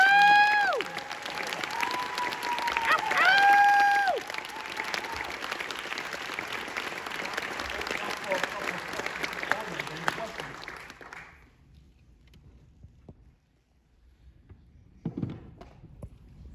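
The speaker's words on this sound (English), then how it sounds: "So now we all give these gentlemen a round of applause." Audience applause and cheering for the cast at a film screening Q&A, dense clapping for about ten seconds that fades out into near silence, with a few scattered voices and a brief thump near the end.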